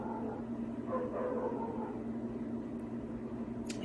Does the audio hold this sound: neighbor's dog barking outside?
yes